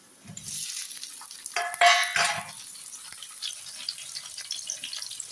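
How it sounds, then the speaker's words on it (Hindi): Onions frying in a pan as tomatoes and spices such as pickle masala and salt go in, a soft sizzle with a louder burst and stirring clatter midway, then quieter frying. "इस तरफ प्याज फ्राई हुए, इसमें अब ये टमाटर और मसाले जाएंगे"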